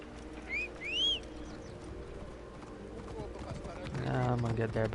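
Horse hooves clip-clop along a city street in the Assassin's Creed Origins video game, a soft steady gait under ambient birdsong and whistling chirps, growing a bit louder toward the end with a low drone.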